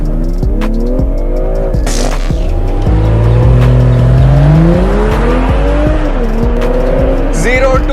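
2021 BMW launching hard in Sport Plus mode with traction control off, engine revving up through rising gear pulls with tire squeal, loud and close, while someone talks over it.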